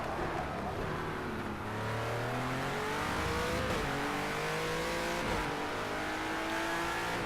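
Racing car engine in a video game revs and accelerates steadily throughout, its whining pitch climbing and shifting with gear changes, loud and continuous with no voices.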